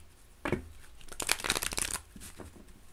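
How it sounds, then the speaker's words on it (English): Tarot cards are shuffled in a few quick bursts of crisp riffling and papery flicking, close and fairly quiet, with no talking over them. "Just giving him a quick shuffle until it feels right to part and cut"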